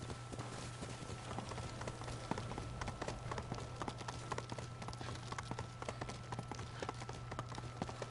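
Steady clip-clop of a white horse's hooves galloping in Ghost of Tsushima, a fast continuous rhythm set against a constant low hum and game ambience.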